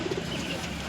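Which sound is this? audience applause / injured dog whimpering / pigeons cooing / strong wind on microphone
pigeons cooing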